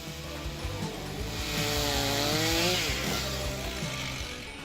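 A powerful chainsaw cuts through a giant tree trunk. The engine buzzes hard and rises in pitch as the chain bites into the wood. A mechanical chatter runs throughout, loud and close, with no talking.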